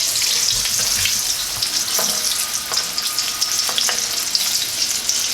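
Tofu deep-fries in oil at 375 to 400 degrees with a loud, dense, continuous bubbling crackle and a few faint clicks underneath.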